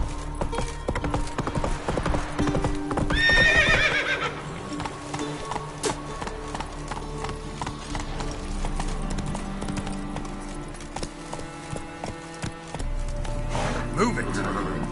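A horse gallops in The Witcher video game, its hooves beating a fast, steady clip-clop with a brief whinny. Voices and game sounds run alongside.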